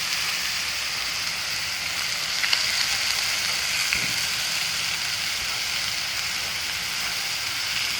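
Chuck roast searing on a Blackstone griddle, a constant dense hiss of sizzling fat that holds steady throughout, close and fairly loud, with a faint tap or two of a utensil and no voices.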